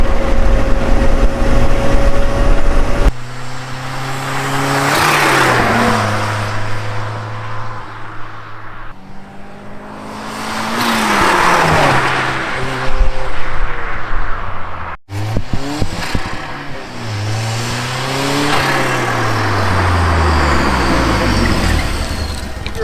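A turbocharged Geo Tracker engine revs hard and loud, rising and falling in repeated sweeps while stumbling and losing power at high revs, with road and tire noise underneath.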